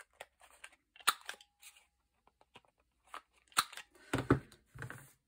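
Scissors trim the edge of paper for a vintage, shabby chic journal pocket, making a series of short, close crisp snips and rustles separated by quiet pauses.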